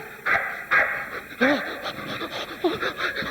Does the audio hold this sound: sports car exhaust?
no